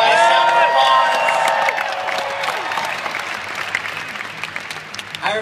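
A health-event audience breaks into loud applause with cheers and whoops, strongest at the start and tapering to scattered claps, with voices mixed in early.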